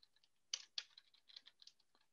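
Someone types on a computer keyboard, a run of light, irregular key clicks with a couple of sharper presses, faint and close in a quiet room with no voices.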